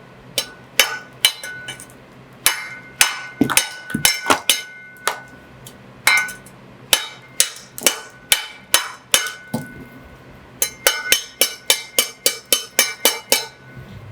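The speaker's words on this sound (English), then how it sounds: "I can cut it with my trowel" Super soft brick being cut and trimmed with a bricklayer's trowel, a run of sharp, ringing taps and chinks, about twenty-five close strikes in an uneven rhythm that quickens toward the end, no voices.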